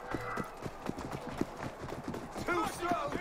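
Horse hooves gallop in Assassin's Creed Unity, a steady clopping rhythm running beneath shouted game dialogue and other effects.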